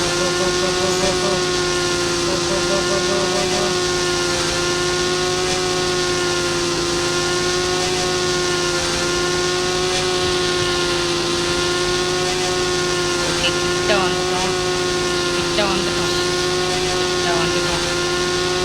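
A Hayabusa motorcycle engine in a bike racing video game runs in a steady, loud, sustained whine the whole time, against a train, with faint pitch shifts but no clear revving.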